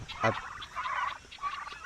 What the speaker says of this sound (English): All right, turkeys. These guys are due for a move.